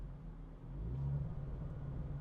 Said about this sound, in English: You do get a very pleasing exhaust note from the rear.